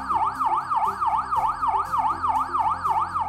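An emergency vehicle siren, as used by an ambulance, police car or fire engine, wails loud and close in a fast, regular rising-and-falling sweep, about a dozen cycles in a row.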